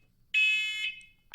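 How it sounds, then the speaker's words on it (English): Fire alarms in an audio drama sound off with a loud, piercing electronic tone that holds for about half a second before fading, then starts again as a fresh burst; no voices are heard. "Spit it out and kill the alarms"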